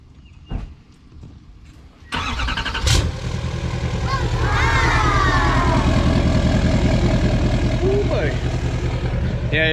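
A Ram 1500 pickup truck engine cranks and catches after a couple of sharp knocks, then settles into a loud, steady idle and pulls away, with people talking over it.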